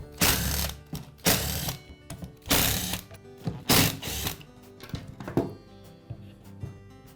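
Quiet, close ratcheting bursts of a screwdriver backing out the screws on the rear side cover of a DeWalt angle grinder, about five or six separate clicking runs with short pauses between.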